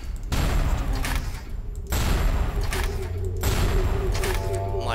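Heat-seeking RPG missiles from the BioShock video game launch in sequence, each release a loud, harsh whoosh and blast that lasts a moment, repeated several times close together.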